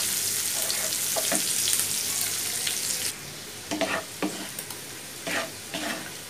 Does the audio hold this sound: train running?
no